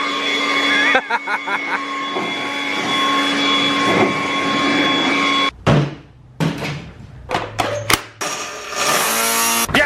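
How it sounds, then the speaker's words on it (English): An electric leaf blower runs with a loud, steady rushing roar for about five seconds, then cuts out. Sharp knocks and short bursts of blowing follow. "it comes with an electric leaf blower"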